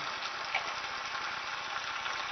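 Beef searing in a hot pan, a continuous close sizzle and crackle with an even hiss throughout and no talking.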